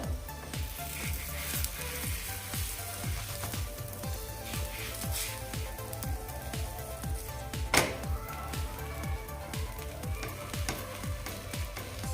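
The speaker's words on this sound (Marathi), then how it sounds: "आता आपण हा पराठा फ्लिप करून घेऊया" A cheese paneer paratha sizzles steadily on a hot pan while being flipped, a soft continuous frying hiss with faint scraping and a brief clatter partway through.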